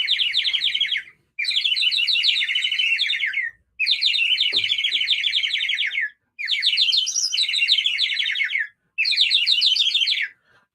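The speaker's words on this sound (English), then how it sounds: "It's like a bird call around his neck." A toucan-style bird call worn around someone's neck sounds off in five long bursts of rapid, shrill chirping trills, loud and close, separated by brief silences.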